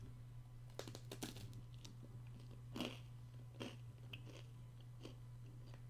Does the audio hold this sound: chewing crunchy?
yes